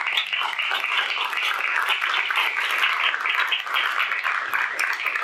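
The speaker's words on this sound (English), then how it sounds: "a big round of applause for him." Continuous applause from an audience at an artist talk, many hands clapping in a dense, even patter that holds steady without fading.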